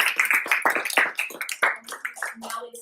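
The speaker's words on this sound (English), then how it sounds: "one last round of applause for our speakers" A lecture audience claps for the speakers, with close, distinct hand claps in an uneven rhythm that gradually thin out, while a few low voices come through near the end.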